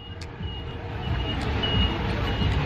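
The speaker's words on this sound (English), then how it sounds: "You can hear the cars." A truck's reversing beeps sound at a regular pace over the rumble of passing cars and engine noise on a Santorini street, moderately near.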